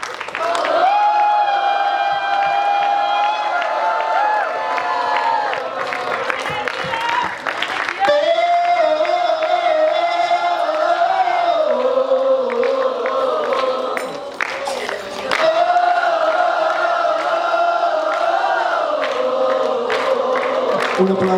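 A congregation at a bilingual 24-hour church service shouts a loud, sustained battle cry together, with voices rising in waves and brief cheering breaks, heard up close and filling the space.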